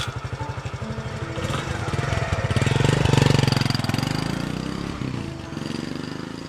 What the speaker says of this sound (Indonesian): bergegas pergi dengan sepeda motornya